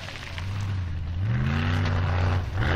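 A Formula Offroad turbo troll buggy engine straining up a steep, low-grip hill at Stapafell, Iceland, revving hard with a rising, climbing pitch, loud and close, alone.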